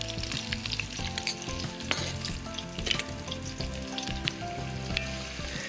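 Brown sugar and cumin fry in a pan as the aromatic base for a Thai noodle soup, a steady dense sizzle with scattered stirring clinks, close and fairly loud throughout, with no voices.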